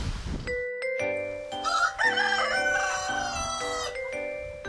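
A rooster on an organic farm keeping about 600 chickens gives one long, clear cock-a-doodle-doo crow, fairly close, ringing alone against a quiet rural background.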